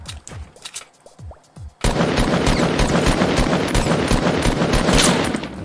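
Heavy gunfire erupts in Fortnite after a few quiet, scattered pops, turning into a continuous loud barrage of rapid shots and booms that persists for several seconds.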